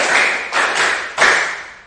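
Schoolchildren in a classroom clap in unison, a short rhythmic sequence of a few loud, crisp group claps with a strong final accent and no talking.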